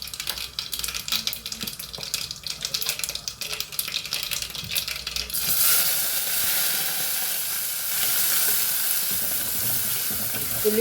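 Fenugreek and mustard seeds fry in hot oil for a Rayalaseema-style brinjal tomato curry, a steady close sizzle with crackling pops that swells louder about halfway through and then holds, with no talking.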